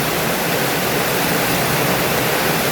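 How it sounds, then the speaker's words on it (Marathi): Heavy rain pours steadily in a dense, unbroken roar, with water running along a road and no other sounds breaking through. "किती जोराचा पाऊस सुरू झालाय बघा, जबरदस्त."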